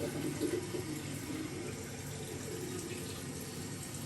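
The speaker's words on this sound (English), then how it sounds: "I've released the plug in the sink. As you can see, water loss is immediate," Soft, steady rush of water draining out of a sink after the plug is pulled, a faint continuous gurgle with no voices.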